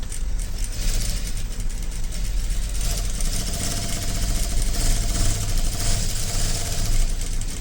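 A sewing machine stitching blouse fabric runs with a steady, close whirring motor hum and rapid needle rattle that continues evenly throughout, with no voices over it.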